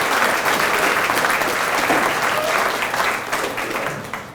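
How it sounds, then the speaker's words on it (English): Audience at a veterans ceremony applauds young Marines, a dense, steady round of clapping throughout that gradually thins toward the end. "Let's give them a round of applause."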